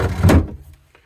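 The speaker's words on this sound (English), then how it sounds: "we have a sliding door here for a little bit of privacy" A single close sliding door inside a 1978 Ranger 30 sailboat closes with a short rumble that ends in a soft thud, then quiet.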